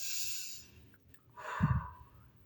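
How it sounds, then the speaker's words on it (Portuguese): A quiet, close demonstration of deep breathing: a long airy exhale, then a pause, then a fuller breath with a soft nasal puff, with no talking. "A respiração."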